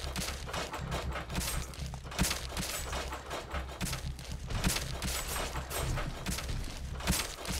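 A bolt weapon fires rapidly in the zombie survival game Night of the Dead, a dense run of sharp cracking shots over a steady low musical drone, with no talking.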